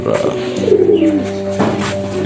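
Pigeons in a coop giving soft, rounded cooing calls up close, a few drawn-out coos overlapping in a short steady burst.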